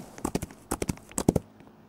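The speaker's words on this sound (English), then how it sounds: "there's usually like two horses up here" Horse hooves in a video game clop in short uneven bursts, close and fairly clear, with no talking.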